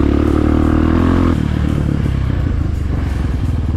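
A Rottor Titan 250 motorcycle, a 250 cc dirt bike, runs loud and steady off-road, its engine note dropping abruptly partway through a jump, then pulsing and revving unevenly as it lands and rides on.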